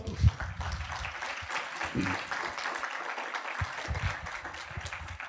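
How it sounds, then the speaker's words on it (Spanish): A church congregation applauds during an evangelism sermon, steady clapping spread across the room, with a brief voice near the start and fairly loud throughout. "Dale el aplauso a Cristo."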